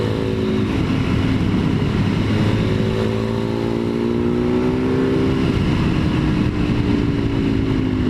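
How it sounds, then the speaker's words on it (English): A motorcycle engine drones loudly on a Japanese road in Yamanashi with passing traffic, its pitch gliding and shifting as the rider moves along, continuous and close throughout. "there's traffic on it"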